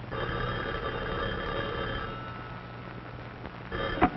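An old telephone bell rings in a home before a caller's big news, a steady ringing tone with a louder, sharper burst near the end and no talking.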